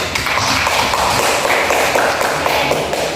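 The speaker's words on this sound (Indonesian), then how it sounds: "Kasih aplaus dulu untuk Lilis." Applause from a classroom audience during a student teaching lesson in Indonesia, a dense steady patter of many hands clapping at close range without pause, with faint shuffling underneath.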